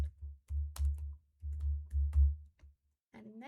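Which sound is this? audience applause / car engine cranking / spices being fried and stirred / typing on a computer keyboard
typing on a computer keyboard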